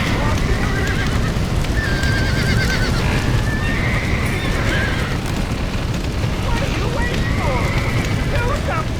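Horses whinny repeatedly in the Red Dead Redemption video game on PS5, several neighs rising over hoof clip-clop, crackling fire and wind, with shouting voices mixed underneath.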